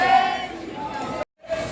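A large, dense crowd of pilgrims at Khatu temple roars and shouts continuously nearby, cutting out briefly before resuming.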